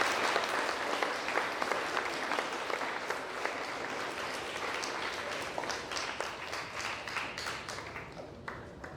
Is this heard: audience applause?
yes